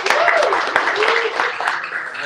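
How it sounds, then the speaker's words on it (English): An audience at a crypto fireside chat applauds, a dense, steady wash of clapping with some voices mixed in, close and loud through the whole stretch. "Give them a round of applause"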